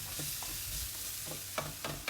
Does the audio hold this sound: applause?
no